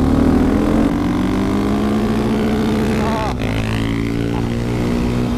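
KTM 690 SMCR and Husqvarna 701 single-cylinder supermotos on stock gearing accelerate hard from a 30 mph rolling start, a loud continuous engine drone with rising pitch as they pull through the revs, shifting tone briefly midway.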